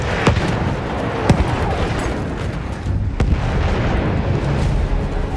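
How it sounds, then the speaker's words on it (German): A grenade and other blasts in Battlefield 1 boom out as several sharp, loud explosions over a constant rumble of wartime gunfire. "Ich werfe eine Granate."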